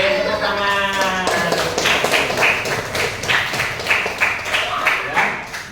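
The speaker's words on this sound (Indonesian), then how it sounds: "Tepuk tangan." Children in a classroom clap their hands in a rhythmic, patterned beat of repeated sharp claps, following a brief spoken call, with the claps close and fairly loud.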